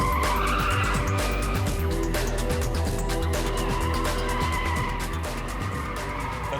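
Noble M12 sports car driving hard with tyres skidding and squealing, a loud continuous engine roar mixed with screeching rubber.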